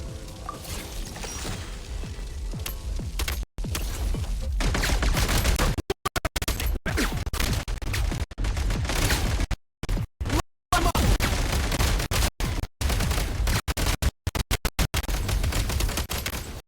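Dense, sustained gunfire from GunFire in the Silent Lands, rapid automatic bursts and bangs overlapping almost without pause, cut by short silent gaps; loud and close, with no talk.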